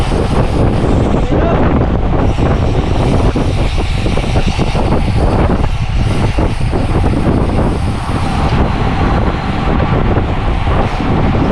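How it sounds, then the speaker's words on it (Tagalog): Strong wind buffeting the microphone with a constant loud rumble during an early-morning long-distance bike ride, and voices faintly mixed in. "Hindi na ganun kalamig dito pero mahangin."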